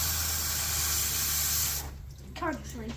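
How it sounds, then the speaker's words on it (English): Hissing water spray blasting over a Saab 9-3 engine bay for a couple of seconds, then cutting off as someone speaks briefly. "Oh, just spray it, man."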